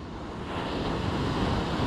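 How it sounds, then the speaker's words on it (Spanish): Calm sea off the coast near Lima, a steady broad wash of surf close by with wind rumbling against the microphone, no voices. "El mar se ve muy tranquilo."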